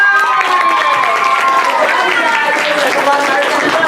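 Applause from a group of children during a Revolutionary War classroom lesson, a loud, busy mix of clapping, shouts and cheering that overlaps with chatter and voices.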